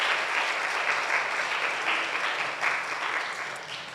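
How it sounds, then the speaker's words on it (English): A Sunday church congregation breaks into a sustained round of applause, dense and steady throughout, with a slight swell near the end and no talking over it. "let's give a big round of applause to him"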